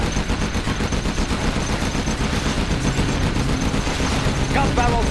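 A Gatling tank in Command and Conquer Generals fires its spinning machine gun in a loud, dense, continuous rattle, with a short unit voice line near the end.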